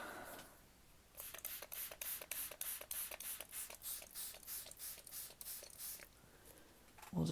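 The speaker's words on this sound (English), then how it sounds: "spray water in there" A spray bottle spritzes water into a small watercolor tray in a quick run of about a dozen short, even hissing bursts, close and alone.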